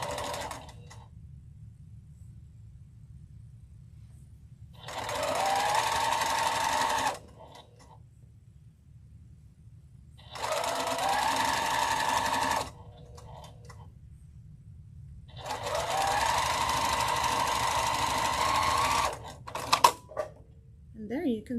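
Sewing machine stitching through fabric in three separate runs of steady whirring, each lasting a couple of seconds with quiet pauses between, close and moderately loud, ending in a few brief clicks.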